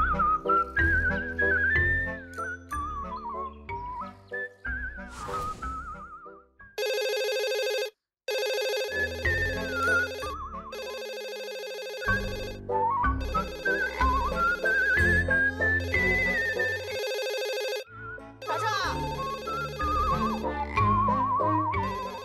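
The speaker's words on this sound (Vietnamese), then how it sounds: "Cậu không nghe chuông điện thoại sao?" A telephone rings in a Vietnamese animated cartoon, a loud melodic electronic ringtone with trilling, whistle-like tones that repeats in bursts with short pauses over about twenty seconds, no talking.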